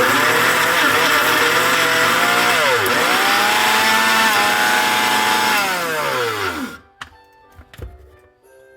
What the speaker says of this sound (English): So I'm back to using the conventional blender.